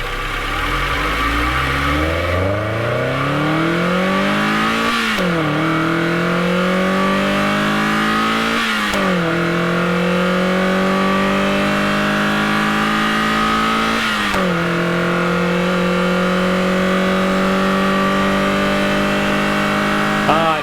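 A stock Mazda Miata NB engine revs up through the gears while driving, rising pitch with three clear shift breaks, loud and close from inside the car.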